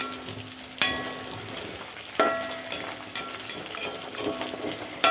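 Chicken sautés in coconut oil in a pan, a steady close sizzle broken by several ringing metal clinks and scrapes as a spoon stirs it; no talking.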